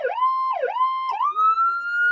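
Siren of a Ford Bronco police chief's response vehicle cycling through its power call tone: repeated loud swoops that dip and rise, then a sustained climbing wail, close and with no talk.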